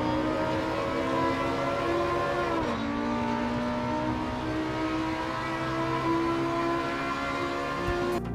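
Audi R8 LMS Evo race car in Assetto Corsa Competizione at Kyalami circuit, its engine screaming steadily under acceleration toward the line, with a brief pitch dip as it shifts gear before climbing again.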